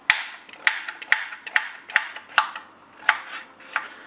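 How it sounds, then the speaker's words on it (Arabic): A knife chops a carrot into small cubes on a cutting board, with about nine crisp, evenly spaced knocks at a steady, unhurried rhythm, close to the microphone and with no talking. "غادي نحتاجوا لها واحد الحبه ديال الجزر اللي غادي نقطعها"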